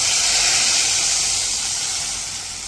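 Buttermilk mixed with gram flour poured into a hot tempering with asafoetida, setting off a loud, close hiss of steam and sizzle that slowly fades over a few seconds, with no talk.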